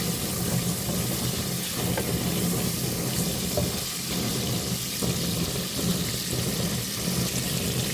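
Prawn karahi sizzles loudly in a hot pan as it is stirred, a continuous dense frying hiss with soft scraping strokes of the spoon recurring every second or so.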